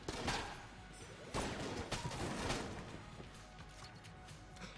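Light gun firing in the game Enter the Gungeon, with a burst of rapid, clustered shots and sharp impacts that thin into scattered pops, fairly faint overall.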